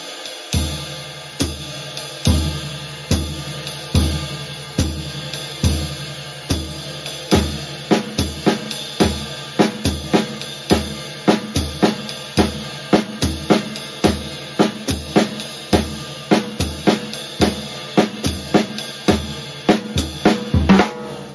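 A drum kit plays a basic swing groove, bass drum thumping on every beat under a ride cymbal pattern and hi-hats on two and four, a steady close rhythm that fills out and grows busier over twenty seconds.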